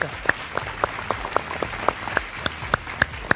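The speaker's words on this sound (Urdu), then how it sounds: "بہت ساری تالیاں ہو جائیں ذرا" A studio audience on a Pakistani Defence Day television show claps for a group of four friends called up on stage, a sparse, loose patter of hands with distinct individual claps standing out close by, moderately loud.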